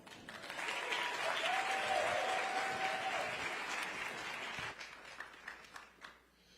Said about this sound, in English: Can we get another round of applause for Dr. Richardson and the HBCUV team?